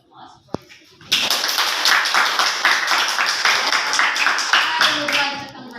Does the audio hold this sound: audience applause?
yes